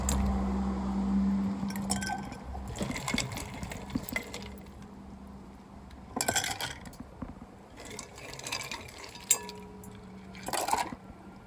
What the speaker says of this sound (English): with clean hands, I'm going to top these both with ice